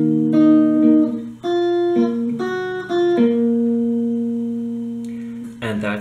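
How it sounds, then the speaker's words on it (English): Electric guitar plays the second part of an interlude riff alone, clean sustained notes in a few phrased groups, ending with a brief strummed scrape. "part of this riff should sound like this."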